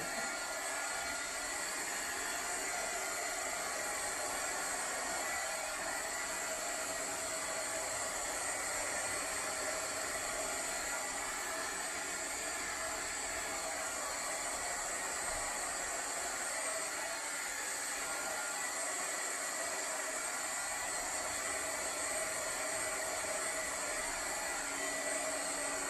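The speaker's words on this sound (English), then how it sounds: "Then I'm going to get my heat gun out, and I'm just going to do a little bit." A heat gun blows hot air over an acrylic paint pour on a canvas print, making a constant, even hiss of moderate loudness that runs unbroken for the whole stretch, with no talking.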